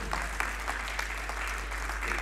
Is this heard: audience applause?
yes